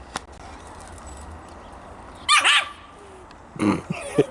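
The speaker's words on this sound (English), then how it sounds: "Dog's crazy." A dog that climbs into engine compartments during a Mercedes AMG build gives two sharp, loud barks, close by, over a quiet background.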